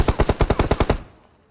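A rapid burst of about nine automatic gunshots sprays from a weapon in the mobile battle royale game PUBG Mobile, loud and evenly spaced, then cuts off into a short fading echo.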